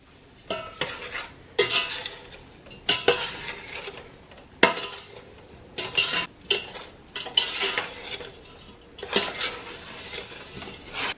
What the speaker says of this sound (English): I am going to get a spoon and mix that up.